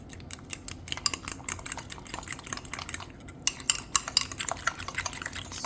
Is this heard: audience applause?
no